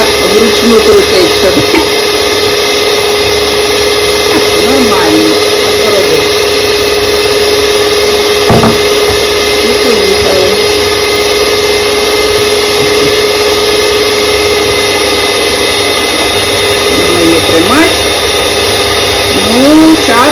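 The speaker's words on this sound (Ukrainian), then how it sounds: "Ну і збиваємо до меренгу, коротше говоря." An electric mixer whipping sugar and lemon juice into meringue, a loud, steady motor whine with a constant pitch running throughout, close and unbroken.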